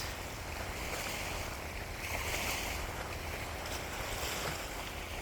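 Steady wind rushing outdoors at a lakeside state park, a broad continuous roar with gusts swelling midway, mixed with faint water wash; no voices.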